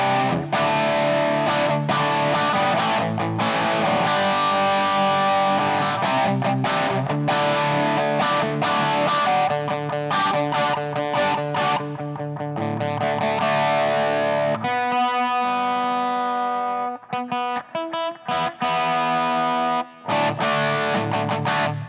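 A distorted electric guitar plays crunchy, mid-heavy chords and riffs, loud and sustained, with a few brief pauses toward the end.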